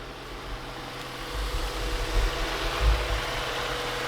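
A daily-driver car engine idles just after being started, a low, steady rumble with a few slightly louder throbs in the middle, heard alone without talk.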